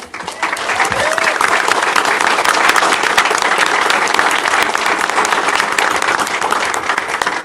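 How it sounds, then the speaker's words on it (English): Applause at a city commission meeting, a dense burst of clapping that swells quickly after a brief start and holds steady at close range. "Can we all give them a huge round of"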